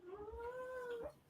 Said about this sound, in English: Is that a cat? That's a cat, right?